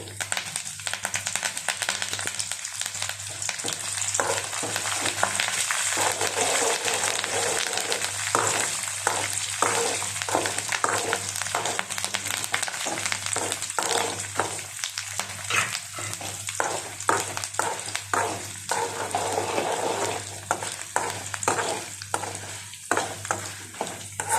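Dry red chillies and curry leaves fry for a tempering, with a steady loud sizzle and repeated spatula scrapes against the pan, close up and continuous.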